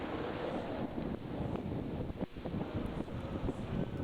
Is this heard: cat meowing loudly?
no